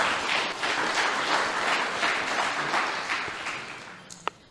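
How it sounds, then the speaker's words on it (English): Round of applause from a panel-discussion audience, steady mixed clapping that swells and then tapers off, ending with a single sharp clap near the close. "Give them a round of applause just for that"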